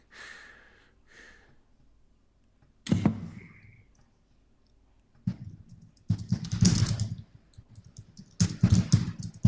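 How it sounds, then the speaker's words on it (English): Scattered clicks and clacks from keys being tapped, coming in short bursts separated by quiet gaps, fairly close. "I'm just typing with my keys. Is that really loud?"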